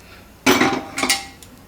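A pressure cooker of rice is set down on a gas stove with a sharp metallic clank and a second knock, brief and close in a quiet kitchen.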